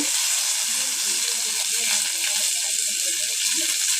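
Dried red chillies and curry leaves sizzling in hot oil after mustard seeds have popped, a dense continuous hiss with faint crackles close by.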